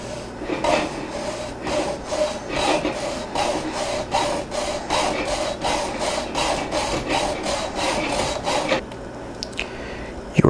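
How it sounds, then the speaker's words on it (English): A hacksaw cuts through a white cane in steady, rhythmic back-and-forth rasping strokes, close and fairly loud, for several seconds before the cut finishes and the sawing stops. "You are going to come to a point where the hacksaw cuts through within seconds"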